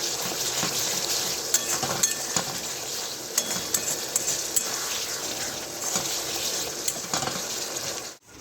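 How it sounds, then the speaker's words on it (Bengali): A spoon scrapes and clinks in a pan as masala is stirred and sautéed with a little chili sauce and vinegar for a village-style prawn curry, giving a steady frying hiss and scattered metallic taps. "চাইনা সস দিয়ে দিচ্ছি একদম চিমটি কেটে। ভালো করে কষে নেব"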